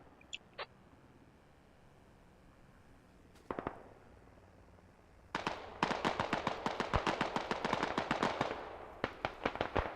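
A .50 cal machine gun fires in Squad on a modded server, with a couple of brief distant bursts followed by a long, loud rapid stream of sharp cracking shots.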